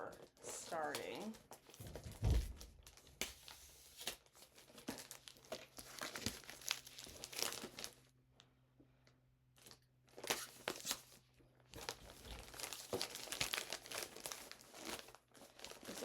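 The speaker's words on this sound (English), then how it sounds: "Let's unwrap this package." Mail package from a pen shop being unwrapped, with close crinkling and tearing of wrapping in bursts and a brief quiet pause midway, while a person talks at times.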